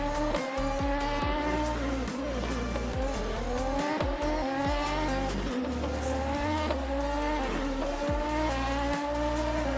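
A prototype race car in a racing video game at Le Mans brakes hard, engine note dropping through downshifts with tyre squeal, loud and continuous throughout.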